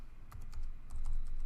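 Fingers type a new password on a computer keyboard, a quick run of soft key clicks, close and quiet.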